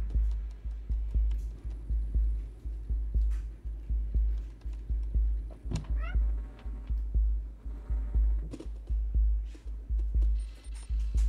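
A cat in the video game Stay meows several times amid steady rhythmic throbbing game music, with some clicking in the background.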